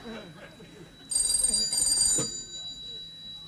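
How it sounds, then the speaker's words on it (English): A telephone rings in short repeated electronic trills in an office setting, loud and close for about a second, with someone talking before and over it. "Answer the phone."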